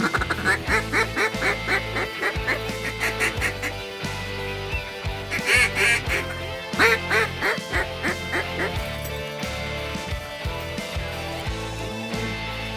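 Ducks quacking repeatedly over a big decoy spread at a waterfowl rest area, busy overlapping calls and honks with a steady background, at times alone and at times under faint talk.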